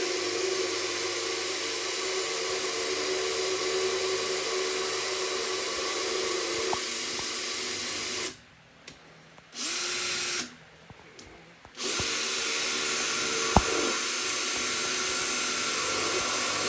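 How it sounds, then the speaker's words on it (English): A power drill with a 9/64 bit whines steadily up close drilling a small hole in metal, stops twice briefly, then keeps spinning at a constant pitch. "let's see if I can drill this on camera"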